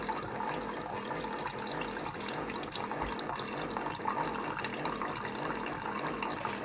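Steady stream of water pouring and splashing into a container while making coffee, continuous and close, with a faint gurgling rhythm throughout.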